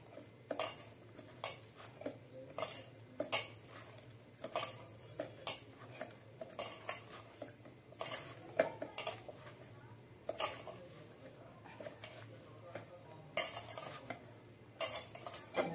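Veg Manchurian mixture being mixed by hand in a bowl, giving quiet, irregular clinks and soft squelching taps throughout, close but faint, with no voice.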